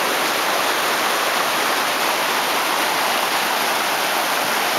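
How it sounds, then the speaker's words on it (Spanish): Water from the Río Higuerón in Frigiliana, Málaga rushes steadily past, a constant full hiss of river current, close and loud, with no voices. "nos encontramos en el río Llorón."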